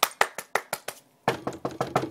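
Knuckles rap on wood in two quick bursts of crisp, close knocks, about five evenly spaced taps, a short pause, then six more, with no talking.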